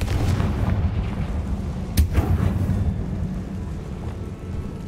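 Confringo blasting spell in the Hogwarts Legacy video game, a sharp explosive crack with a deep rumbling boom over a low, continuous game-ambience drone.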